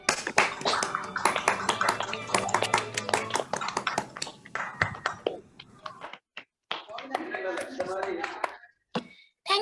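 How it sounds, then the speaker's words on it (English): Parents and guests at a school investiture ceremony clap for the proud parents and the head girl, a crisp burst of many close hand claps that thins into scattered individual claps and fades out. "Can we have a round of applause for the proud parents and the head girl?"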